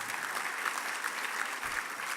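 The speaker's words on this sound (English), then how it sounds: "Oh, yeah, clap, you're right, you're correct. Clap." An audience at an ACLU SoCal honors event claps steadily throughout. The applause is dense and continuous, with no one speaking over it.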